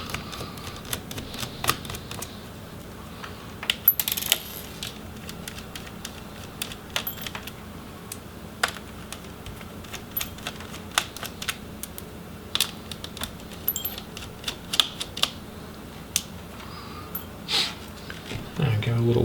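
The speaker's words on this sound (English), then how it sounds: "we'll have to remove the 3 heatsink screws as well" Heatsink screws coming out of an HP Omen 17 laptop during disassembly: sparse, sharp little clicks and metallic ticks from a screwdriver and screws, close and fairly quiet, scattered irregularly over a low steady background.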